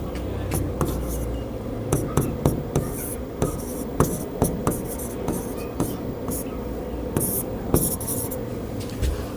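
A formula is written on a board in a classroom maths lesson, with repeated short taps and scratchy strokes over a steady background hiss and low murmur of room noise.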